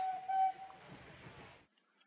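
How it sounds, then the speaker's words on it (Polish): A freight train pulls into a station in the OpenTTD railway game: a steady whistle-like tone sounds for about a second, then a brief burst of rolling rail noise before it cuts to near silence. "No i pociąg podjechał."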